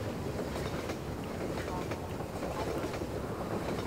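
A train rumbles steadily on a platform in the Half-Life 2 video game, a continuous loud low roar of rolling rail noise with no clear pauses.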